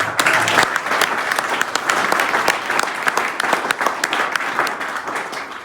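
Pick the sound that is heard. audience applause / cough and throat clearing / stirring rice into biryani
audience applause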